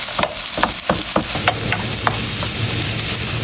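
Onions sautéing in a little oil in a pan, with a steady hiss of frying under a series of sharp spatula taps and scrapes against the pan.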